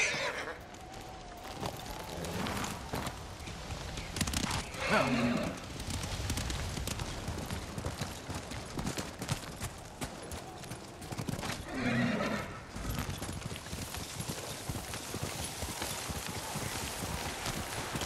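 In Ghost of Tsushima, hooves thud steadily through blowing wind as a horse whinnies twice, the calls standing out above the muffled riding sounds.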